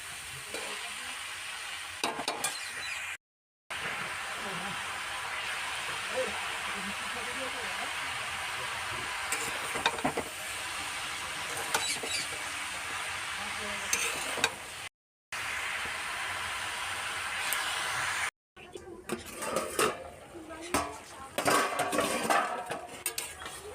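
Bottle gourd sautéed with salt in a pan, giving a steady broad sizzle with scraping spatula stirs and clinks of metal cookware, briefly cut by short silent gaps before busier stirring toward the end.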